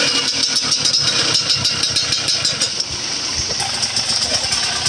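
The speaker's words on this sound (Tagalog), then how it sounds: "Kanina pa nagpabebe yung motor ni Kuya Mac." An old motorcycle under restoration runs roughly, its engine chugging in a fast uneven rattling rhythm close by, with a brief dip partway through as the revs change.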